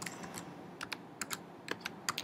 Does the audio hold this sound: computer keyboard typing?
yes